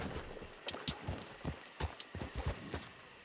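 A horse galloping in the western video game Red Dead Redemption, a steady rhythmic drumming of hooves on dirt at moderate distance with no voices, fairly quiet throughout.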